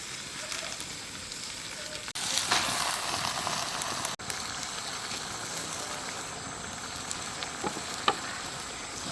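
Spinach going into a hot frying pan for a chicken curry with taro, a steady close sizzle and frying hiss that jumps louder as the greens hit the oil, with a couple of sharp clatters along the way.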